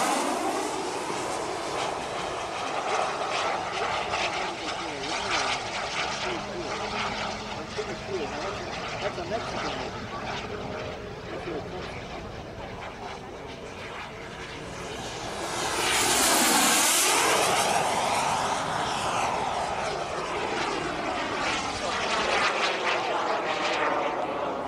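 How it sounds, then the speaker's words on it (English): A model jet powered by a Jet Central Rhino turbine with 36 pounds of thrust roars past at an RC airfield event, a sustained loud whine that swells into a close flyby before trailing off, with voices faintly underneath. "That Jet Central Rhino turbine at 36 pounds of thrust really pushes that thing to the limit."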